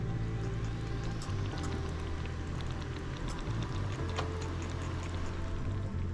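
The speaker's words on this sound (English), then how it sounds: "You can hear it start bubbling." A pot of water bubbling on the stove for steaming vegetables during chicken and vegetable meal prep, a continuous soft gurgle and patter with a steady low hum underneath.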